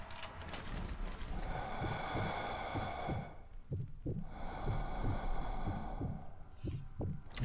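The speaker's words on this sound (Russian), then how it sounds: "И ну-ка сейчас сердцебиение восстановим." Slow, heavy heartbeat thuds pulse steadily under a tense game soundscape in the zombie shooter Sniper Elite: Nazi Zombie Army, close and low, with breathy swells and no talking.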